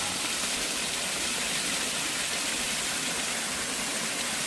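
Waterfall at an arboretum (Byeokchoji Arboretum), a dense steady roar of falling water, loud and close, unbroken throughout with no voices.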